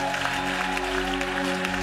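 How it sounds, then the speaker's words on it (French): A church congregation applauds and acclaims the Lord: dense, steady clapping and crowd noise fill the short stretch, with sustained music tones underneath. "Acclame très fort le Seigneur."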